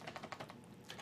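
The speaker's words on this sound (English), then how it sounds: "It's my first day with a keyboard." Quick typing on a computer keyboard while filling in a SharePoint column, heard as a steady run of soft clicks over a hissy, noisy background.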